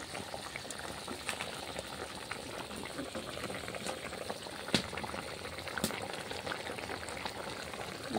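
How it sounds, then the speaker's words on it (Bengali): Fish head curry gravy bubbles in a pan at a steady boil, a soft continuous burble dotted with small pops and a couple of sharper blips, quiet and close with no talking. "দেখো এবার ভালো করে ফুটছে"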